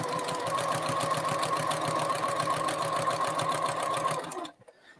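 A sewing machine stitching binding onto a bulky quilt runs with a fast, even mechanical whir and rapid needle ticking for over four seconds, then stops abruptly.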